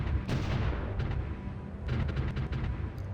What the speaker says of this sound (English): So much artillery coming up, damn.